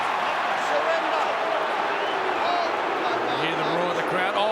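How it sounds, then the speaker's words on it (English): Dense, steady roar of a stadium crowd at a 2024 NRL rugby league match between Brisbane Broncos and South Sydney Rabbitohs, filling the whole stretch at a constant loud level with a commentator's voice faintly threaded through. "You hear the roar of the crowd."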